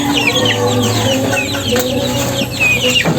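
Young chickens cluck and peep continuously, close up, with overlapping soft chirps and clucks from several birds.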